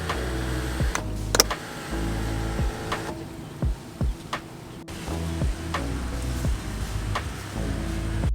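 Electric sunroof on a Dodge SRT-4 car running through its motor cycle, a steady mechanical whir with a few sharp clicks and clunks as the panel opens and closes, close by with no talk.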